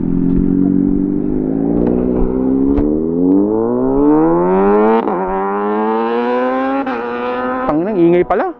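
A Kawasaki Ninja ZX6R motorcycle accelerates past in a flyby, its loud engine note climbing steadily in pitch through the gears before a sharp rev burst at the end.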